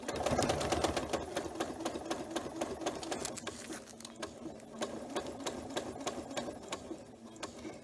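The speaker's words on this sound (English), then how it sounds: "Then I'm going to take a couple more stitches into where the binding will be." Janome 9450 sewing machine stitching quilt layers near the binding edge, a fast, steady needle chatter running throughout at close range, with no talking.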